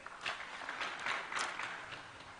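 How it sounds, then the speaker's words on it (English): Scattered applause from a conference audience at a county nuclear power meeting in Siaya, a light, fairly distant patter of hands clapping that swells and fades. "Will we clap for them?"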